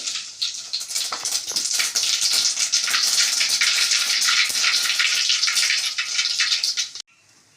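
Cut pieces of taro root are washed in water in a kitchen, a steady close splashing and rinsing that continues for about seven seconds before stopping abruptly.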